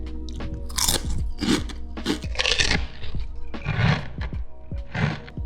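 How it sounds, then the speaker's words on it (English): Walkers Squares salt and vinegar crisps crunch loudly up close, several sharp bites followed by bursts of chewing in an uneven rhythm. "now let's move on to the crunch portion of the test"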